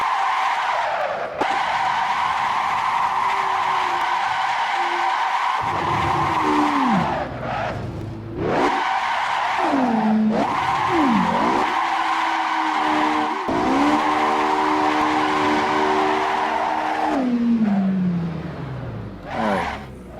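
In the Assetto Corsa racing game, a car in first gear skids with long, loud tire squeals that rise and fall in pitch, mixed with surging engine revs and brief gaps between slides.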